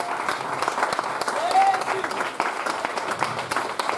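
A church congregation applauding, sustained clapping from many hands with a few voices mixed in.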